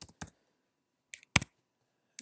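Computer keys tapped in short isolated bursts, a few quick clicks near the start, a tight double press in the middle and one more at the end, with quiet gaps between them.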